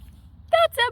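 Two short voiced grunts from a person imitating a pig's oink, one right after the other, loud and close in a quiet room.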